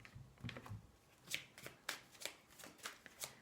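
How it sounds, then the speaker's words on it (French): Oracle cards shuffled by hand ahead of a five-card draw, a soft riffling patter of about seven quick, close bursts at a steady rhythm, quiet and with no voice. "On va tirer 5 cartes pour avoir le plus de précision."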